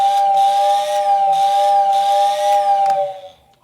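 A Lionel whistle tender, rewired to AC, blows a loud steady steam-style whistle driven by its small motor. The tone wavers in a few pulses, then cuts off and fades quickly near the end.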